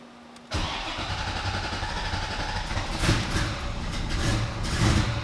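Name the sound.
car engine starting for first time with MegaSquirt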